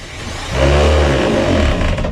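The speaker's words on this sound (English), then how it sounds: "we're going to just go with the self-tapping screw and see what we can" A power driver sends a self-tapping screw through wood into the metal framing of a skoolie, giving a short, loud, rising whir that holds steady and then tapers off.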